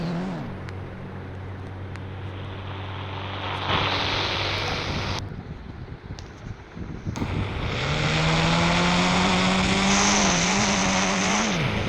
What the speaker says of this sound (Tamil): இந்த காரோட சவுண்டு நல்லா இருக்குது கைஸ்.